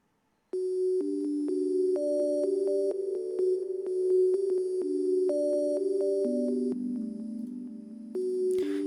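A plain sine-wave synth melody from 3x Oscillator plays in an ambient-style beat. Pure tones step through a slow, even sequence of notes, soft and clean, alone without drums or voices.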